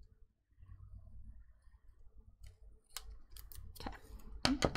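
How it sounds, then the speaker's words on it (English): Scissors snip through wide washi tape at a planner desk, a few quiet crisp cuts and clicks near the end after soft handling noises. "I need my real scissors for this one"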